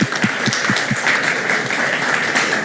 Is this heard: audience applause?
yes